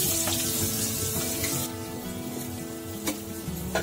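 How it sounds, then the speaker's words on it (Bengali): Onions and whole cumin seeds frying in hot oil for a gravy, giving a steady close sizzle with soft stirring scrapes throughout, slightly quieter in the second half. "এগুলোকে ভালো করে নাড়তে হবে, ভালো করে ভাজতে হবে আর কি।"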